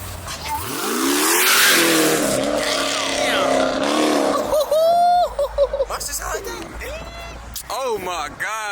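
A Dodge Hellcat's engine roars and revs loudly up close on a Chicago street, then drops back as excited voices talk and exclaim over it.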